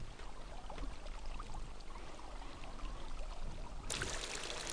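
Water trickles and pours steadily through the Alhambra's fountains and the channels cut across its marble floors in Granada, a soft continuous flow with no voices.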